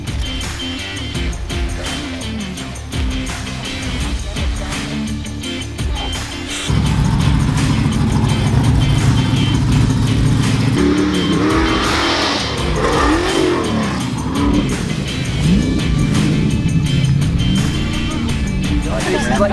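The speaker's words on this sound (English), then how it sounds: "First time Hailey's been in this truck, so first time she's hit the ramp," A Toyota race truck drives hard with its engine revving loudly up close, the note rising as it hits a jump ramp, while people talk over it.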